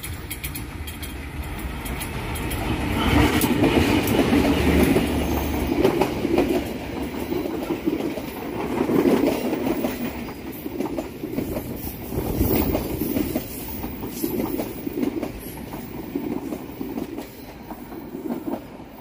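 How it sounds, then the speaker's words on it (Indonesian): A Bandung Raya local train rolls past on the rails approaching Gedebage station, loud and close, with rhythmic clickety-clack of wheels and rumbling carriages throughout. "Kereta api lokal Bandung Raya saat ini persiapan masuk stasiun Gede Bage dan berhenti normal"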